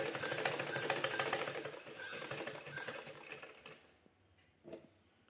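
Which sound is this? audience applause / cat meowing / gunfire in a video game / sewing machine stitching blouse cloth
sewing machine stitching blouse cloth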